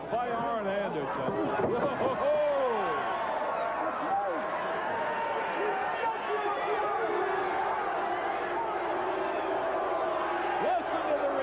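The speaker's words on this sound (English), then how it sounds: "Listen to the response from the sensational crowd gathered here" A large arena crowd at a 1989 tag-team wrestling main event roars and cheers steadily, a dense sustained wash of voices with whoops rising through it, under lively announcer commentary.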